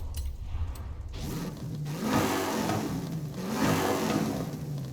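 A muscle car engine revs in the racing game Forza Horizon 5, rising and falling in two strong surges over a steady mechanical drone, with no one talking.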